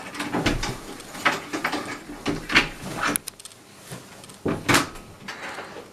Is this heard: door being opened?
yes